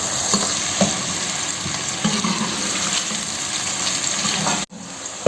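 Thinly sliced onions fry in oil, browning for chicken dum Bombay biryani, giving a steady close sizzle with occasional stirring scrapes that briefly stops near the end.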